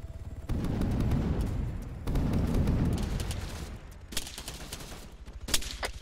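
Arma 3 gunfire, with loud rumbling volleys of shots followed by sharper, sparser cracks and pops, all fairly distant and without talk.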